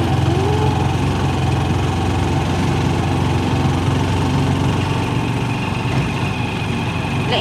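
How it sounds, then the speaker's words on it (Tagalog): A motorcycle engine runs steadily and loudly close by, with a constant mid-low drone and no clear revs or pauses. "O, Bengong, kita mo, galing-galing niya mag-motor, Beng, oh."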